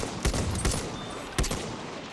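Rapid rifle fire from the General Liu rifle in Battlefield 1 crackles in a dense, continuous burst with a few sharper, heavier shots standing out against loud battle ambience in an online match on the Tsaritsyn map.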